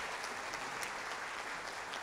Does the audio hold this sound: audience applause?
yes